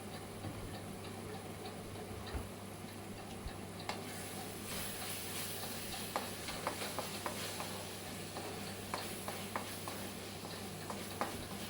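Ginger garlic paste and turmeric frying in a pan, a faint steady sizzle broken by small sharp pops and ticks, with a low background hum.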